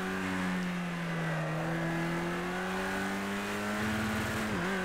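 A race car in Project Cars 2 pulls away with a steady, close engine drone that climbs slightly in pitch, continuous and alone with no voices.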